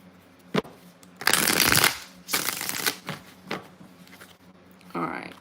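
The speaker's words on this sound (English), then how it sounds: "One more shuffle." Tarot cards being shuffled in several loud, riffling bursts separated by short pauses, close to the listener, with occasional faint voice in the background.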